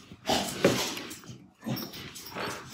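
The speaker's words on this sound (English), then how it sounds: "now all the dogs are riled up" Several dogs bark and whimper in excited bursts, fairly close, with a brief pause midway before the yapping resumes indoors.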